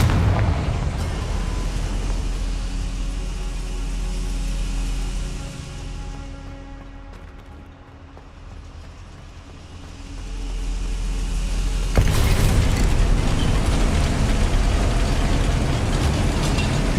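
Explosions from the Confringo fire spell in Hogwarts Legacy, heavy booming blasts and a sustained roar that dips in the middle, then surges loudly again in the final seconds.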